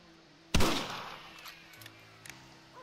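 A single sharp rifle shot in Red Dead Redemption cracks out loudly and rolls away in a fading echo, followed by a few faint clicks and soft ambient tones.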